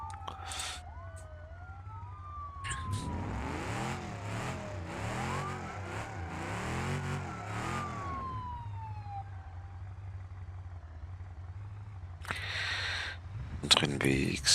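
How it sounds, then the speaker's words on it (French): A car racing a Citroën BX on a bridge, its engine revving and accelerating in rising and falling sweeps under siren-like tones, with a louder burst near the end. "On va faire une course contre une BX."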